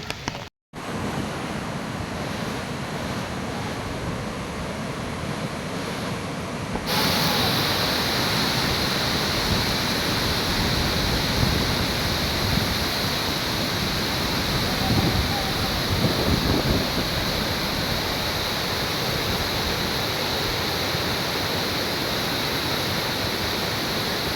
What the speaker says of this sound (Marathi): तुम्ही जी आता पाहताय ती आमची कोयना नदी